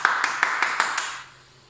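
Children give themselves a clap during an online music lesson, about six evenly spaced claps in quick succession, soft and slightly distant, fading out after about a second.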